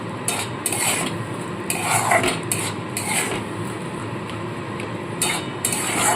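Ginger-garlic paste being stir-fried in a pan for a fish rezala, a spatula scraping and clinking against the metal in steady, repeated strokes over a low sizzle, close and fairly loud with no voices.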